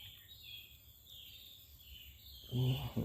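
A kingfisher, locally called tengkek udang, calls from the riverside forest where someone is fishing, thin high whistling notes drifting at a distance over insect hum, followed by a close, louder noise at the end.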